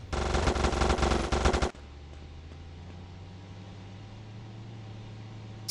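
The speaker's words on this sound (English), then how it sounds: "What's shooting?" Rapid machine-gun fire in the GTA Vice City video game rattles loudly for nearly two seconds, cuts off abruptly to a low hum, then a brief burst returns at the very end.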